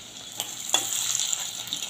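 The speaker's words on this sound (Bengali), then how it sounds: "এইভাবে আমি উল্টে পাল্টে খুব ভালো করে লাল লাল করে ভেজে নেবো, লো টু মিডিয়ামে করে" Sabudana pakoras fry in hot oil in a kadai with a soft, steady sizzle and a couple of brief stirring clicks near the start.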